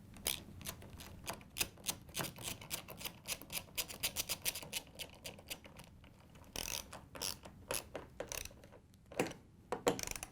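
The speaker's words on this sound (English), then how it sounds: "you can tighten down all the bolts with the ratchet and the 5/16 inch socket" Ratchet with a 5/16 inch socket tightening the upper door hinge bolts on a Whirlpool, KitchenAid or Maytag refrigerator, giving off rapid bursts of close, crisp clicking that pause briefly and then resume with no talk.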